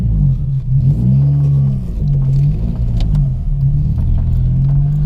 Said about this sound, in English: Listen to my exhaust.